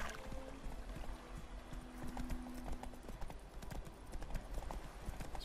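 Horse hooves clip-clopping at a steady walking rhythm in The Witcher 3: Wild Hunt, close and continuous, with faint game ambience and scattered talk beneath.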